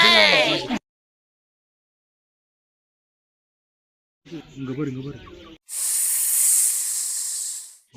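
A snake gives a sharp, breathy hiss that bursts out after a long silence, sustained for a couple of seconds; brief voices and other noises come before it, at Kurumbapatti Zoological Park.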